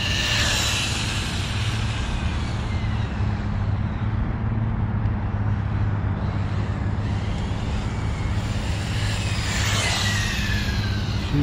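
An HPI RS4 nitro RC car's small engine runs continuously, a loud, rough, buzzing drone under heavy wind noise, with a brief rising whine near the end.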